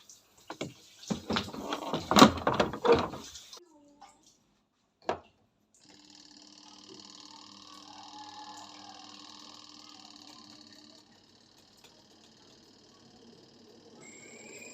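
A few clattering knocks of handling, then a washing machine settles into a steady, quiet mechanical hum as it spins.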